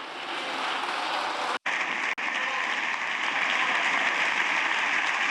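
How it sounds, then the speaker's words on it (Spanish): A parliamentary bench in the Spanish Congress breaks into a sustained ovation during an investiture debate, with dense, loud, steady clapping that briefly cuts out twice before continuing unbroken. "se lleva esa ovación de la bancada popular"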